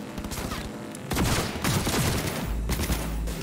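Assault rifle gunfire in Cyberpunk 2077 rattles out in dense, loud bursts of rapid shots, with a heavier barrage kicking in partway and continuing steadily to the end.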